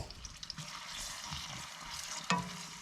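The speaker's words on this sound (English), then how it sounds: "We saute the onion, then we add the hop shoots and cook for a couple of minutes with 2 pinches of salt and the spices." Onion and hop shoots sauté in a pan with salt and spices, a soft, continuous close-up sizzle with light stirring scrapes and one sharper clink near the end.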